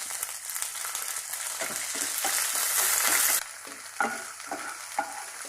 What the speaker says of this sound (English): Now let us fry this curry leaves.